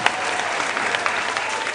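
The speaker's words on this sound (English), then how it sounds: "A round of applause, ladies and gentlemen, to the contestants again." A studio audience at a school quiz show applauds the contestants, loud and dense clapping that runs steadily throughout with no talking over it.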